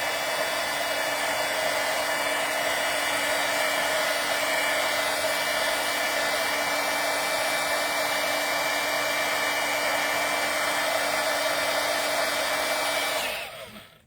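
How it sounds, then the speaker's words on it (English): Heat gun warming up in a craft workspace, a loud, steady close whooshing hum with a constant tonal whine that holds evenly for about thirteen seconds, then cuts off, with no talk. "I just let the heat gun warm up before I start."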